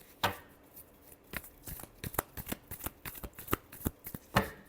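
Tarot cards shuffled by hand in close, rapid riffling bursts and soft slaps, a quick irregular patter with no talk over it.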